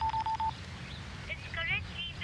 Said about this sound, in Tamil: ஃபோன் நம்பர் ட்ரை பண்றா.